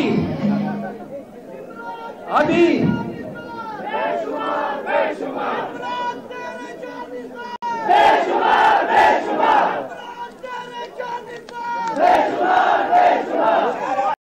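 A large crowd at a Pakistan Tehreek-e-Insaf political rally in Pakistan shouts and chants loudly in rhythmic waves, voices blending into a roaring mass that swells repeatedly.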